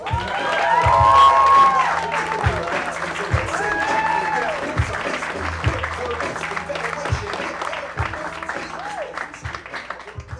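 A comedy club audience at the Nerdist Showroom in Los Angeles applauds and cheers as a comedian takes the stage, loud clapping with whoops and vocal cheers over a steady music beat, gradually thinning out.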